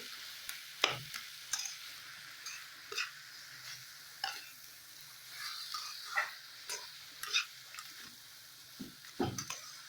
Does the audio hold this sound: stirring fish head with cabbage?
yes